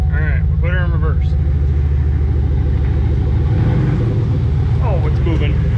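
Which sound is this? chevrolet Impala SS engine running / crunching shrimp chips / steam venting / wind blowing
chevrolet Impala SS engine running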